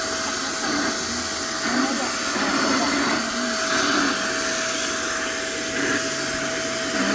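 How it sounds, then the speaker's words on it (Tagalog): A vacuum cleaner runs without a break, a loud, constant whine with a steady pitch and slight shifts in tone as it moves, with a voice murmuring faintly under it. "Ito naman, vacuum naman."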